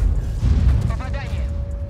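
A high-explosive tank shell fires in the World of Tanks video game, heard as one heavy booming blast with a rumbling tail and a faint tone afterward; no speech is heard in it.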